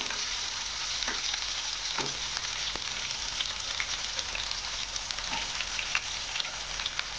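Stuffed eggplants frying in a pan give a steady close sizzle, broken by the scrape and clack of a spoon turning them at irregular intervals, with no speech.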